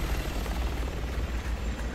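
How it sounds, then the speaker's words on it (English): A helicopter in Resident Evil 6 pulls back, its steady low rotor thump and engine roar loud and continuous with no talking over it. "The chopper's pulling back."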